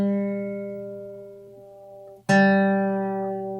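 A plucked third guitar string rings out, then is struck again and sustains clearly as its pitch rises while the tuning peg is turned, no voices present.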